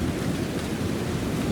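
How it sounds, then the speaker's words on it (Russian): Thunder rumbles through a storm over a lake where swans swim, a low, continuous roll blended with the hiss of steady rain, fairly loud and unbroken. "А вот у нас гром."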